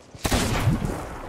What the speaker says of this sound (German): So, ich schieße doch mal auf das Pulverfass hier